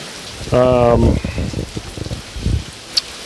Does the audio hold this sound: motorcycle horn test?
no